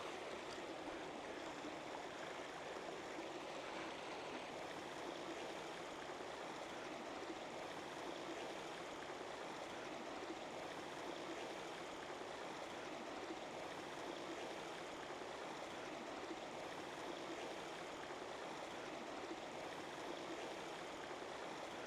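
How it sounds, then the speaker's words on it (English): Steady rushing water from a waterfall on a country property with a log cabin in Bedford, Virginia, a constant broadband roar heard alone and moderately distant. "So there's our waterfall."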